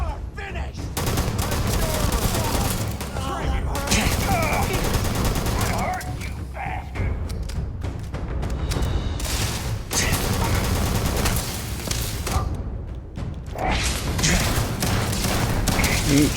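Rapid bursts of automatic gunfire and shotgun blasts in the space combat game Starfield, loud and near, overlapping in heavy fusillades with shouted voices between volleys.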